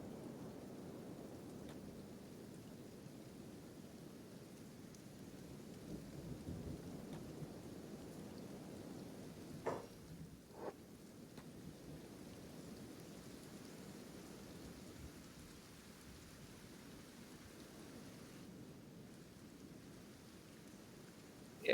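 Acid rain and rolling thunder in the Kenshi game world: a steady low hiss of rainfall throughout, with a couple of sharp thunder cracks near the middle and no voices.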